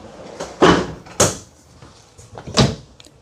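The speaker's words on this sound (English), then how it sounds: "And these are soft closing drawers." Soft-closing kitchen drawers in a Brinkley Model Z 3610 RV slide and bump shut in three or four short, muffled knocks, close up and without speech.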